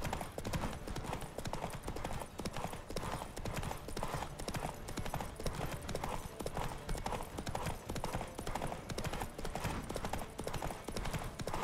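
Rapid, continuous hoofbeats of galloping horses in a horse race in the video game The Witcher 3: Wild Hunt, loud and dense throughout, with a rushing, busy background.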